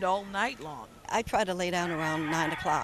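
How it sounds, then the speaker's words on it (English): Roosters crow and chickens cluck at a home near a noisy flock, the bird calls faint and mixed beneath someone speaking throughout. "Crowing roosters and clucking chickens"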